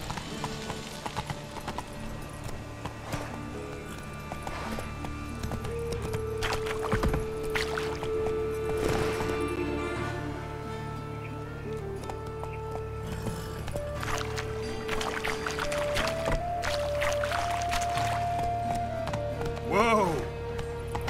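A horse in The Witcher 3 gallops with rapid, continuous hoof clip-clop under steady game music and ambience, while brief spoken lines come in over it.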